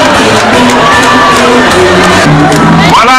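A large jubilant crowd in Blita cheering and ovating the President as he passes, loud and continuous, with shouts and whoops layered throughout.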